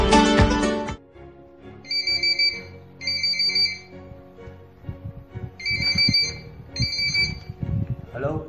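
A mobile phone rings during a movie scene, its electronic ringtone sounding in four repeated bursts after a brief loud opening, with low background sound underneath.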